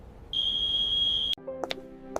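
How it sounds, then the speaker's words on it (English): A piercing electronic alarm tone holds steady for about a second, then cuts abruptly and gives way to a lower electronic beeping pattern with short chirps, close and clear with no talk. "Then, suddenly, the alarm sounds, and your conscious mind jolts awake."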